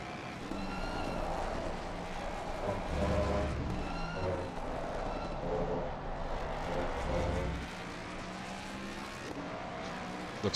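Onboard race car engine at Suzuka in a racing video game, loud and close, revving hard through the gears with pitch climbing and dropping, plus brief lifts off the throttle.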